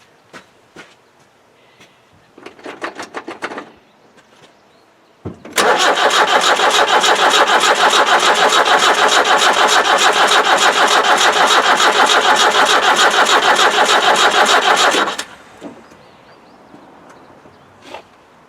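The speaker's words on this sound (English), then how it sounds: "crank this baby over and see if she's going to start" A 1991 2.5-litre naturally aspirated diesel in an ex-military Land Rover 90 cranks over hard for about ten seconds with a fast, loud, rhythmic churning, preceded by brief clicks and a short burst and falling quiet without catching.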